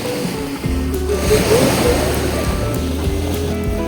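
Sea waves wash onto a calm beach at Orikum, Albania, a steady broad surf rush with a low rumble underneath, continuous and fairly loud throughout.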